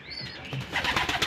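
Racing pigeons at a loft give soft coos mixed with quick bursts of wing flapping and rustling, close and fairly quiet, in a single short burst of activity.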